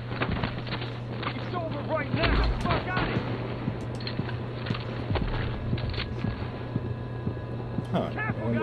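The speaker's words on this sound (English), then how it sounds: "I wonder who all is firing at me." Gunfire in the video game The Division: scattered shots and bursts, some near and sharp, others distant, over constant low background hum, with someone talking across most of it.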